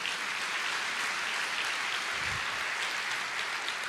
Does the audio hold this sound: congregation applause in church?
yes